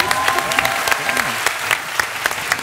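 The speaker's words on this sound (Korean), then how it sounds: "박수, 박수" Audience applause at a live comedy show, a short burst of dense, steady clapping close by, with a voice briefly heard over it.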